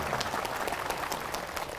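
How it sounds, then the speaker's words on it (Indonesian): Applause from a crowd gathered outdoors on an open field in hot midday sun during a Ramadan religious talk, a steady dense patter of many hands clapping at moderate distance throughout. "Barulah tepuk tangan."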